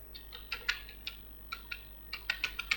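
Quiet, irregular keystrokes on a computer keyboard while a document is typed in Microsoft Word, arriving in short bursts of separate taps over a low steady hum.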